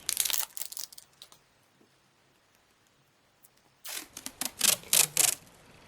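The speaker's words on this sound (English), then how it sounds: "It looks like a 15mm washi. I'll just take the plastic off that." Plastic wrapping crinkles as it is pulled off a 15mm roll of floral washi tape with foil accents: a short crackly burst, a near-silent pause, then a louder run of sharp crinkling and tearing bursts up close.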